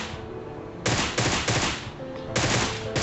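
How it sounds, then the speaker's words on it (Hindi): Loud, close automatic gunfire from a PUBG game, fired while lying prone, comes in dense sustained bursts with brief gaps between them. "लेट के मार दूसरी गन के साथ"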